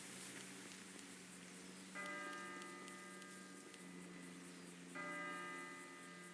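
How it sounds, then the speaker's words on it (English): Church bells toll in the GTA Online video game, two clear ringing strikes spaced about three seconds apart over a steady low background hum, distant-sounding and fairly faint, with no talking. "You hear the bells tolling?"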